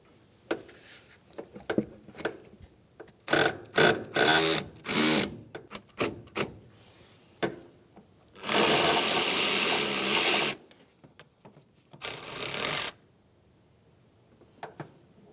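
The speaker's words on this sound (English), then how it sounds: "just go ahead and remove that 10mm bolt now" A ratchet on a long extension and swivel backs out a 10mm bolt during inner tie rod work on a 2003-2011 Honda Element, with repeated close clicking bursts and longer sustained ratcheting runs, and no voices.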